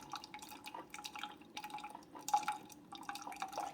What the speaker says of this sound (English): When you first get your Keurig, they want you to run a freshwater rinse through it.